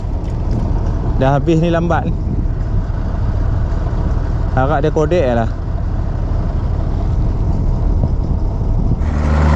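A tractor engine runs in a village field at Kampung Pisang, a steady low drone throughout, with two short bursts of people talking over it.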